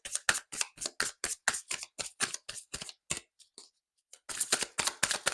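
Tarot cards being shuffled by hand, a rapid run of crisp riffling clicks up close, a brief pause, then another quick burst, with no talking.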